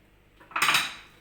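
Onions tipped into a cooking pot while making Moroccan rfissa, heard as a short clattering scrape of metal utensil against the pot with a brief crackly burst. The sound is close and alone.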